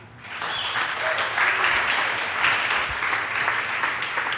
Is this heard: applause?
yes